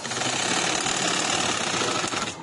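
Domestic sewing machine stitching plain seams on a maternity kurta with a pleated top yoke, its steady close whirring running without pause through nearly the whole stretch before stopping at the end.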